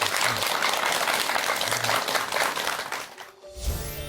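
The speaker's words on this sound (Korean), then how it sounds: "여러분 큰 박수 부탁드립니다" An audience at a meditation lecture applauds, a dense, loud wash of many hands clapping that holds steady for about three seconds and then abruptly drops away, followed by a brief low rumble.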